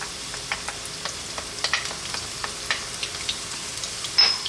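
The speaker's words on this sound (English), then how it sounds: "We're going to start off by dropping in our onion." Chopped onion and garlic hitting hot olive oil in a pan over medium-high heat, giving a bright crackling sizzle with quick pops and light stirring taps, close and fairly loud.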